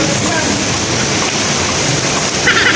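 Rainwater from a rusty corrugated tin roof pours steadily through a gutter, a continuous loud rushing splash of water that holds for the whole stretch with no break or talk over it.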